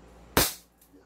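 A gas-powered airsoft gun fires a single sharp, loud shot close by, followed by a brief fading tail and near silence.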